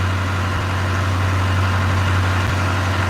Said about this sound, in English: I'm running her easy because I don't want to listen to the engine.